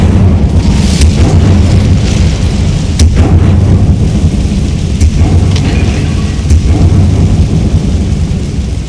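Incendio fire spell blasts in Hogwarts Legacy. A loud, roaring, rumbling wash of sound carries sharp bursts at roughly one, three and five seconds, with no pause in between.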